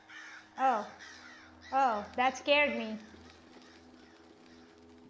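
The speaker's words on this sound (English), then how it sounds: "Why are these crows running away?" Crows caw in the eerie forest of the video game Darkwood, several harsh calls in quick bursts close by, followed by a quiet low ambient hum; a person speaks briefly among the calls.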